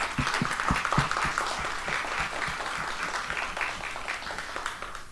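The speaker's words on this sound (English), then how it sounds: "Please give them a round of applause" An audience at a community panel on the roles of a college board of trustees gives the panelists a round of applause, sustained clapping with distinct nearby claps that gradually softens.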